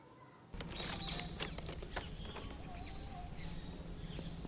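Flower petals being plucked by hand in an evening garden give a run of small close crackles and soft snapping ticks, busiest early on and then thinning, over a steady low outdoor hum.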